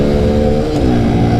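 Yamaha Byson motorcycle engine revving up close, a loud short burst with a rising, slightly wavering tone, no talk.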